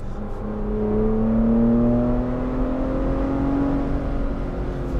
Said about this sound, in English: When you go into Baja, it just gets louder of the same.